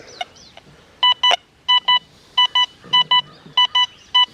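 A Deus 2 metal detector with an 11x13 coil sounding its iron tone: crisp, high electronic beeps in quick pairs, repeating about seven times over faint background noise, with a brief outdoor chirp early on.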